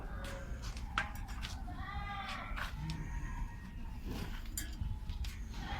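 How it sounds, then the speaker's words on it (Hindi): A large goat bleats several times at a livestock market in Riyadh, Saudi Arabia, the calls fairly faint and spaced out over a steady low rumble of market noise. "मेरा ख्याल है सऊदीया में मैंने इससे बड़ा बकरा नहीं देखा।"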